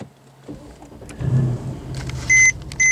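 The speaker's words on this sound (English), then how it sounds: "I'm going to start the car by just putting my foot on the brake." A 2012 Mercedes-Benz CLS63 AMG with a V8 engine cranks and fires up from a push-button start. There is a rising low rumble, then a steady idle, while two sharp electronic chimes sound near the end.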